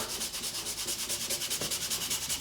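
80-grit sandpaper rubs across bouzouki frets during a re-fret, making steady, rhythmic back-and-forth scratchy strokes up close with no talking.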